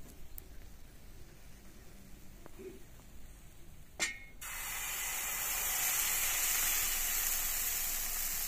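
Pancakes cooking in a pan: after a sharp clatter, a steady broadband sizzle rises and holds, close and fairly loud, with no talking over it.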